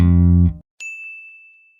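Bass guitar string left ringing without being muted, a loud low sustained note that cuts off, followed by a clear high sustained ring fading slowly.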